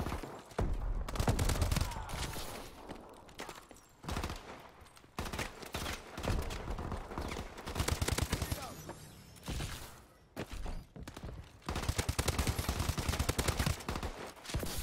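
Enemy gunfire in Call of Duty: Advanced Warfare, dense rapid bursts of automatic shots in repeated volleys, loud and close, with a voice talking at times.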